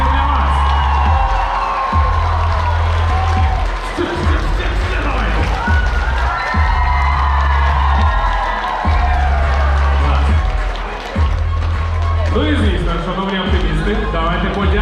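A crowd at a school graduation ceremony applauds and cheers for the parents, with steady clapping and scattered shouts and whoops under a booming low backdrop, loud and continuous throughout.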